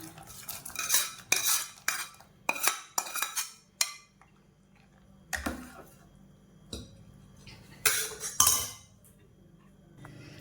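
Metal spoon clinks and scrapes against pots in irregular bursts, close by, as tempering is tipped into a pot of millet payasam.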